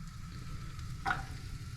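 Sweet potatoes frying in a pan with onions during RV cooking, a soft steady sizzle throughout with one brief louder crackle burst midway.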